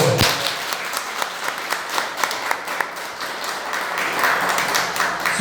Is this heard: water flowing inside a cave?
no